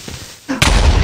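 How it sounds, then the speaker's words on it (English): A creeper explodes in Minecraft, a sudden loud, broad blast that bursts in after a quieter moment and keeps roaring to the end of the short clip. "I heard an explosion. Yep, creeper snuck up on me."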